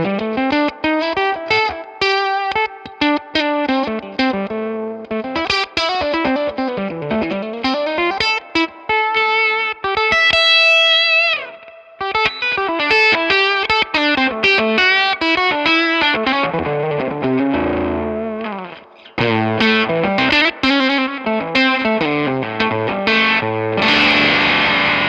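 Electric guitar played through a Believe effects pedal, its heavily processed, warbling distorted notes and chords ringing with chorus-like modulation across a steady, loud passage with no talking.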